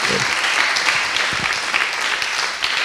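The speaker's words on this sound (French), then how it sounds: "on n'a même pas eu les applaudissements" A conference audience claps steadily for a few seconds, a dense even wash of applause with no voices standing out.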